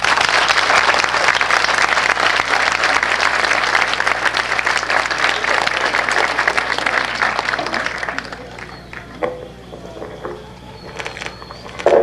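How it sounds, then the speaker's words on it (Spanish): Loud, sustained applause from a crowd, steady for several seconds before thinning out and fading to a few scattered claps. "lo recibimos con un fuerte aplauso"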